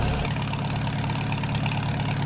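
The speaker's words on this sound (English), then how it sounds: "That is a really loud truck." A truck engine idles loudly and close by, a dense, steady rumble with a knocking, throbbing texture that never lets up.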